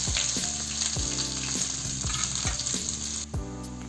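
Onions fry in a mix of ghee and oil with a loud, continuous sizzle, broken by regular scraping strokes of a spatula about every half second.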